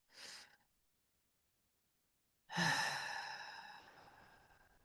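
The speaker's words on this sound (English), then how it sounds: "Maybe take another deep breath." A short breathy inhale is followed by a pause, then a long deep exhale that fades slowly, close and quiet in a silent room.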